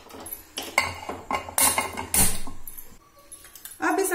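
Metal clatter as an appe maker pan is set onto a gas stove, several knocks and scrapes of cookware in a kitchen, close and moderately loud.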